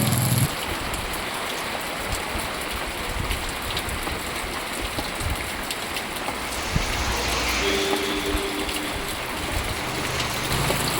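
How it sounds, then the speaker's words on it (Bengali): Rain falls steadily on a wall outside a house on a misty early morning, a loud, continuous hiss with dense patter heard close by, with no talking. "দেয়ালটাতে কি সুন্দর পড়ছে বৃষ্টিটা"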